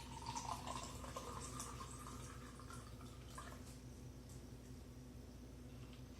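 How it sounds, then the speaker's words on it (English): A Cosmo Canyon cocktail is poured from a metal shaker into a glass, a faint trickling stream with a few drips, quiet and alone. "And now, you pour the drink."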